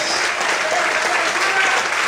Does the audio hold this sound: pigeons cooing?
no